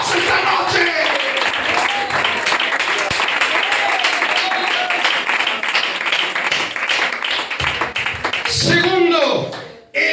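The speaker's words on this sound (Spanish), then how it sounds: "Alguien que le dé un aplauso" A church congregation breaks into loud, dense applause during an evening sermon, steady rapid clapping mixed with shouts that holds for nearly ten seconds before cutting off abruptly.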